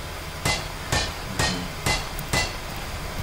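A structure is hammered in the video game Don't Starve Together: five evenly spaced, sharp hammer blows about half a second apart, loud and close, with no talking.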